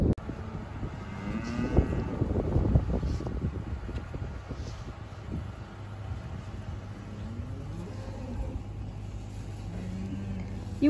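Cattle moo several times out in a snowy pasture, the drawn-out calls carrying from some distance over wind noise and a low engine rumble.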